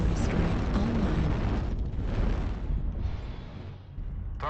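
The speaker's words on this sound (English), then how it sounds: "Artillery strike online." Artillery strike explosions in the MechWarrior Online mech combat game, a sustained loud, rumbling barrage of booms with dense low-end roar that swells and fades over several seconds.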